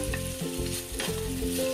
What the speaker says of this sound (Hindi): 2 मिनट तक इसे हम टमाटर और चने की दाल को भून लेंगे